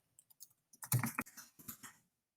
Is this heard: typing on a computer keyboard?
yes